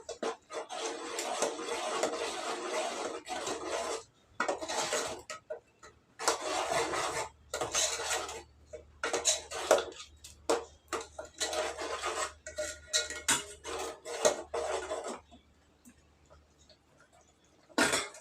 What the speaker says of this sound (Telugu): కారం చింతపండు వేసేసిన ఒకసారి అయితే బాగా కలిపేస్తాను